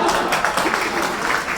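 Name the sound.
audience applause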